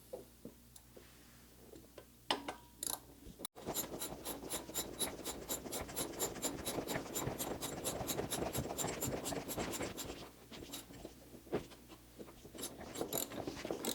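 Socket wrench ratcheting a wheelchair wheel bolt tight, a rapid run of even clicks lasting several seconds at close range, with a few scattered clicks before and after.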